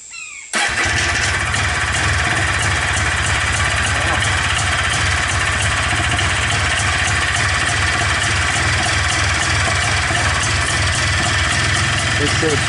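Polaris Xplorer 250 ATV fitted with a Yamaha Blaster carburetor, choke on, cranks and fires within the first second, then settles into a loud, close, steady idle.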